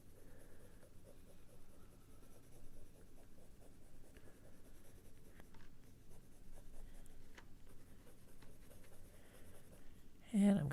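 Faber-Castell Polychromos colored pencil shading Prussian blue over scarlet red on paper, a steady close scratchy rub with quick back-and-forth strokes running throughout, ending with a brief louder knock.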